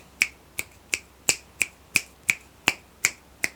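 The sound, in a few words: finger snapping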